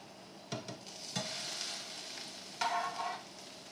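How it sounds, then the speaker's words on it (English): A quiet, steady sizzle of potatoes frying in a pan, punctuated by a few soft clinks and scrapes as pieces are placed and moved. "You'll hear it start to sizzle."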